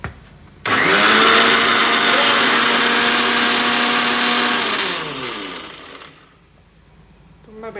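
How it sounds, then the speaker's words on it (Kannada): A kitchen mixer grinder whirs loudly and steadily for several seconds, grinding tomato, onion and grated coconut masala in a home kitchen, then winds down and stops. "ಒಂದು ಸ್ವಲ್ಪ ಟೊಮ್ಯಾಟೊ, ಒಂದು ಸ್ವಲ್ಪ ನೀರುಳ್ಳಿ, ತೆಂಗಿನಕಾಯಿ ತುರಿನ ಮಿಕ್ಸಿಗೆ ಹಾಕೊಳ್ಳಿ."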